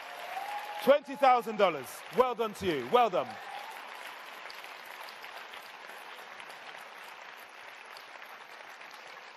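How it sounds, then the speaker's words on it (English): At an awards ceremony for women entrepreneurs, a voice speaks over the start of continuous audience applause, and the applause carries on alone as a soft, steady wash. "Give her another huge round of applause."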